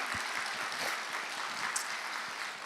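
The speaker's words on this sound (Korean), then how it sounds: "다시 한번 박수 한번 격려하겠습니다." Korean church congregation applauding during a special early-morning prayer service, producing a soft, continuous patter of many hands clapping at moderate distance without a clear rhythm.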